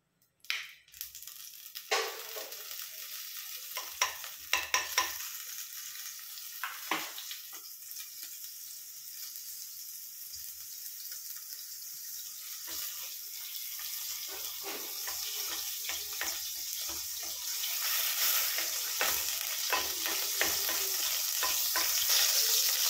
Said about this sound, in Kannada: ಒಂದು 2 ಸ್ಪೂನ್ ಎಣ್ಣೆ ಹಾಕ್ತಾ ಇದ್ದೀನಿ. ಹಾಗೆ ಬಟರ್ ಹಾಕ್ತಾ ಇದ್ದೀನಿ ಸ್ವಲ್ಪ